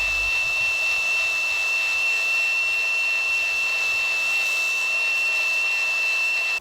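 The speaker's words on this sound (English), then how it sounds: "So it's out with the angle grinder" Angle grinder runs continuously against the bolt head on a Ford Escort Cosworth fuel filter, a loud, steady high-pitched whine with a constant tone, cutting off abruptly at the end.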